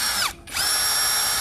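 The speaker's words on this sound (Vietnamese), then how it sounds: "Mọi người muốn nhẹ nhàng khoan mồi bắn vít tôn" A cordless drill driver whirs at a steady high pitch, winding down and spinning back up in a brief dip before running on continuously, loud and close.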